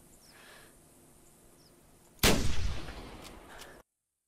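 A single sharp, loud rifle gunshot in a hunting video game bursts out of quiet background and rings off into a decaying echo over about a second and a half.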